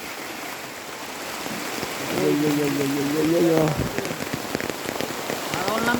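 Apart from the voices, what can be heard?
heavy rain falling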